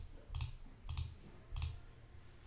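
Three distinct clicks of a computer mouse, spaced about half a second to a second apart, each a short crisp tap with a soft thump, close and clear against a quiet background.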